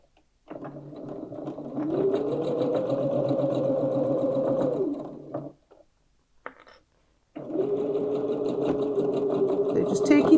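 A home sewing machine stitching a reversible pocket tote bag runs in two steady whirring stretches with a brief stop between them, its motor hum rising and falling slightly as it guides the fabric around a curve.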